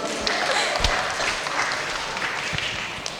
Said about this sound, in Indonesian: ya kita berikan aplaus dulu